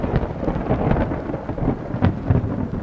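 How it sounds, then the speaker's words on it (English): A loud thunderclap from a night storm, rumbling broadly with sharp cracks near the end over steady rain, with no voices. "there was a thunderclap so loud and window rattling"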